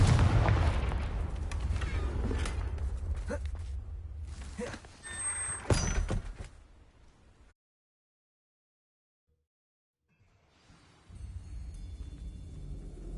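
Confringo blasting spell cast against spiders in an underground cellar in Hogwarts Legacy, heavy booming bursts and rumbling impacts over the first several seconds, then near silence before faint ambience returns.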